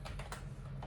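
Close keystrokes on a computer keyboard while Python code is entered, coming in several quick bursts of clicks with short pauses between, no one speaking.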